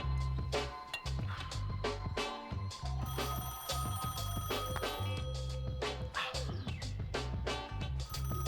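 A telephone bell rings insistently in repeated bursts inside an office, loud and close, with no voices over it.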